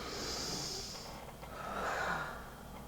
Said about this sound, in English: And then you take a nice breath.